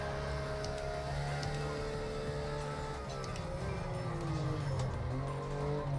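Porsche 911 GT3 engine in the Project Cars 2 racing game, a high-revving tone that climbs and shifts in pitch through gear changes, steady and moderately quiet with no talking.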